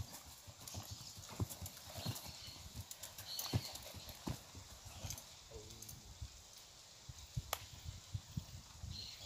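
A horse being trained with spurs in the open clip-clops steadily at close range. The hoofbeats are clear and irregular, with faint outdoor background noise and a brief whinny-like sound partway through.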